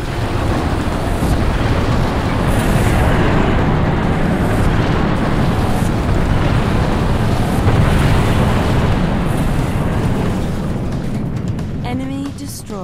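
A Spirit of Fire orbital MAC cannon strike in Halo Wars hits as a long, loud, roaring rumble that holds steady and then slowly fades, with a brief voice near the end.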